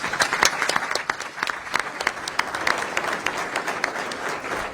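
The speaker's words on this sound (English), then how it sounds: "Can we give them a round of applause," A summit audience applauds infrastructure panelists, a full crowd clapping in a steady, dense patter with sharp individual claps standing out, fairly loud and sustained without speech.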